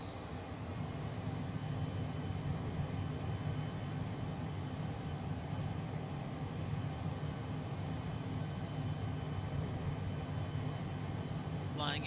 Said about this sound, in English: let's go ahead and release parking brake and begin our taxi